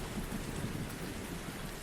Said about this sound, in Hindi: और भयंकर वर्षा होने लगी और बुरी तरह से बिजली कड़कने लगी।